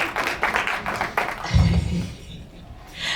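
An audience claps in a quick run of sharp, evenly spaced hand claps that fade after about a second, followed by a dull low thump and quieter room noise.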